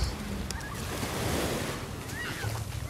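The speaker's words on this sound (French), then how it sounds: "le bruit des vagues, il a tendance à bercer" Sea waves wash onto the beach at Juan-les-Pins, a continuous rolling surf with gusts of wind buffeting the microphone, moderately loud and with no one talking.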